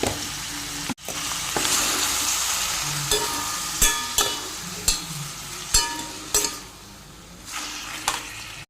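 Chicken sizzles steadily in a pan with turmeric and salt, while a spoon stirs it and clinks against the pan in a loose, repeated rhythm. The sound is close and there is no talk.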